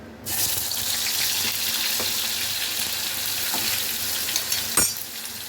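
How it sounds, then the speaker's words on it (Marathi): Ground green masala paste of coriander hits hot oil in a pan and bursts into a loud, steady hiss of frying that carries on evenly with a few crackles and spatters. "आता तेल गरम करायला ठेवलेलं आहे आणि आता हा वाटण काढलेला तो टाकून देऊया आपण"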